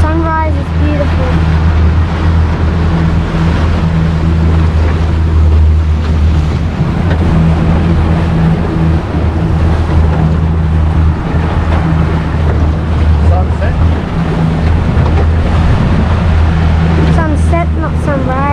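A boat's outboard motor runs steadily with a low drone through shallow water, mixed with wind and water noise, and voices are heard over it at times.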